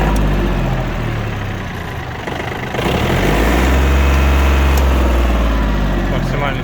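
A Yanmar F210 three-cylinder 21 hp tractor engine idles with a loud, steady low rumble close by, and the tone rises and thickens slightly partway through.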